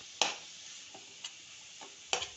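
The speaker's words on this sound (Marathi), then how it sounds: "अशा पद्धतीने सगळीकडं परतून घ्यायची आहे भाजी" Fenugreek greens stirred and sautéed in a pan, with a soft steady sizzle and a few sharp scraping clicks of the spatula spread across the short stretch, fairly close.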